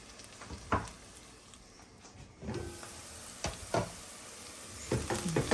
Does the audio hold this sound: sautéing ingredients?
yes